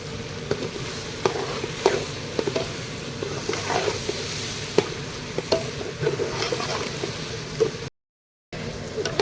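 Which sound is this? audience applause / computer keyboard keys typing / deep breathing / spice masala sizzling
spice masala sizzling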